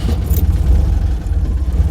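A classic tractor's engine runs with the clutch drum rattling, a steady low rumble with faint metallic chatter throughout, close and fairly loud, with no talking.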